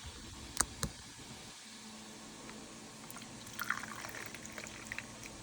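Bubble solution pours into a switch-adapted bubble maker, a faint liquid trickle with a couple of sharp clicks early on and light splashy dribbles near the end, alone and quiet.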